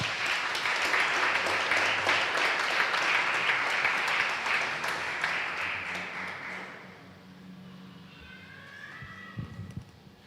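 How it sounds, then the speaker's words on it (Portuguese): A church congregation applauds in a dense, sustained burst of clapping for about seven seconds, then it fades and thins out into quieter room noise with a few scattered sounds near the end. "Agora sim vocês podem aplaudir o Senhor."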